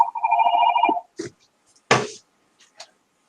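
A telephone bell rings loudly for about a second with a steady trilling tone, then cuts off, followed by a few short bursts of noise and faint rustles.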